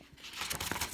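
A book page turning on a couch, a single papery rustle and crinkle close by, brief and soft, with no talking over it.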